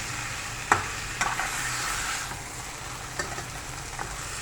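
Onions and peppers sizzling in a pan, a soft continuous crackle with a few sharp clicks of stirring, close and fairly quiet, no voices.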